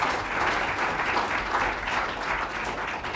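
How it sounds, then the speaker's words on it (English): A conference audience at an international event on combating piracy gives the panelists a round of applause, steady moderately loud clapping filling the whole short stretch. "So one last round of applause for our panelists,"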